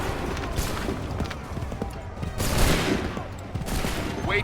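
Musket volleys ring out across an Assassin's Creed III battlefield, rolling bursts of massed gunfire and booms overlapping in loud waves, with shouted commands mixed in beneath the shots.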